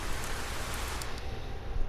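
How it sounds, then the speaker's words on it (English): Rain falls in the video game 428 Shibuya Scramble, a steady broadband hiss of drops on surfaces with a low rumbling base, close and continuous, rising slightly toward the end. "nothing will make the sound of rain stop"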